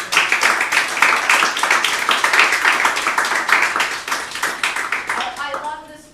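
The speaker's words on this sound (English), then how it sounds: "Let's give Ellen another clap." Audience clapping after a poem reading in San Marcos, Texas: dense, close, energetic applause with sharp individual claps, sustained for several seconds before tapering off, with a voice beginning to speak at the end.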